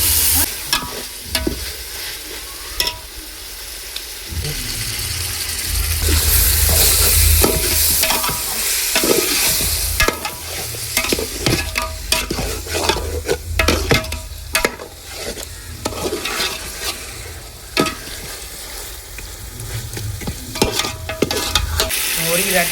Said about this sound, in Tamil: இப்போ இதில் வந்து கறியை போட போகிறோம்.